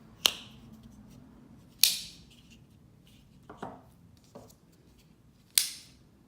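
Cold Steel Rajah 3 folding knife with a high-tension triad lock snapping open, sharp loud metallic bangs repeating several times with pauses between, close and otherwise quiet.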